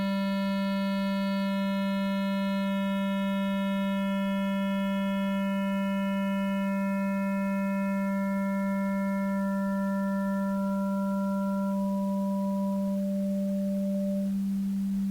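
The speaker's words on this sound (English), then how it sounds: "now let's look at how the square wave is composed of individual sinusoidal components." Synthesized square wave running on a Bela board, with a steady low fundamental and a ladder of higher sinusoidal harmonics that drop out one by one, top down, until only a pure tone remains.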